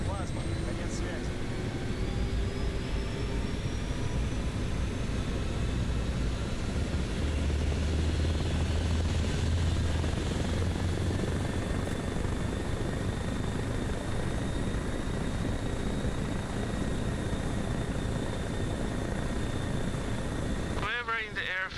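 Helicopter in the video game Arma Reforger: a steady, loud rotor and turbine drone sustained throughout, with radio-style voices talking over it.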